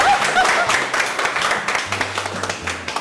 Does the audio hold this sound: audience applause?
yes